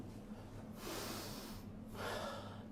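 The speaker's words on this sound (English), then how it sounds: "We just sniff, correct? We just sniff." Someone takes two long, audible sniffs in through the nose, each a drawn-out breathy inhalation about a second long with a short pause between, close and clear with no talking.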